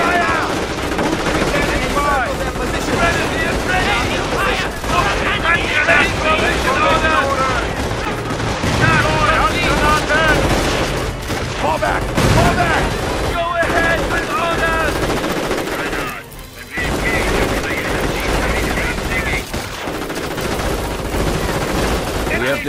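Dense gunfire in a Company of Heroes battle, machine-gun bursts and rifle shots rattle almost nonstop with occasional heavier booms, loud and close, while soldiers' voices call out over the fighting.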